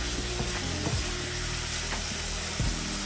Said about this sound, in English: we're just gonna kind of fry this together with the garlic for a bit.